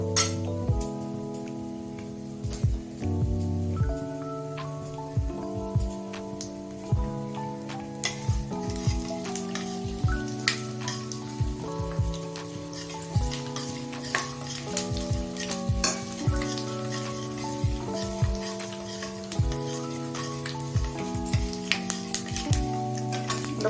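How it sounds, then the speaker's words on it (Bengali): Asafoetida and fenugreek seeds fry in hot oil with a continuous close sizzle, over which a spoon stirs and scrapes the pan in a repeated rhythm, with background music playing. "আর দেব হিং, হাফ চামচ মতো হিং। এগুলো একটু ভেজে নেব।"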